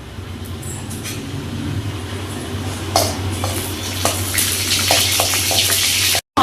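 Mustard seeds and cumin sizzling in hot oil for a tempering, a steady frying hiss with scattered pops and crackles that build toward the end.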